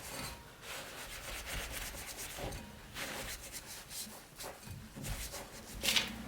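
Painted pot rubbed by hand to give it a distressed look, a steady soft scuffing and rasping close by with slight variations in stroke, no talking.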